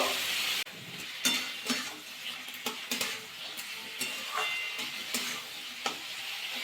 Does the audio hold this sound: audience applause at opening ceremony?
no